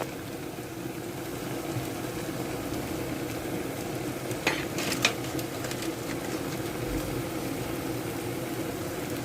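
Curry leaves frying in a pan with turmeric, red chili powder and salt give a steady low sizzle and bubbling, with a brief cluster of stirring scrapes midway.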